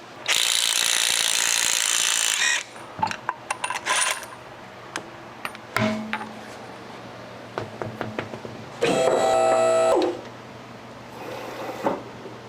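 Ratchet wrench working on the belt tensioner of a 2006 Nissan Maxima with belt squeal: a long, loud burst of rapid clicking, then scattered taps and clunks, and a second shorter ratchet burst near the end.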